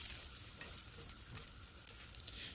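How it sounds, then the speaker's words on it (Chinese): Ginger and garlic slices stir-fried over medium-high heat in oil in a wok, a steady bright sizzle with faint scraping and stirring taps throughout, close and continuous without speech. "我哋用中大火爆一爆啲姜片同埋蒜片"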